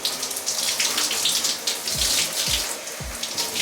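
Warm water sprays directly onto the scalp while braids are washed, a steady close hiss with a few soft low splashing thumps.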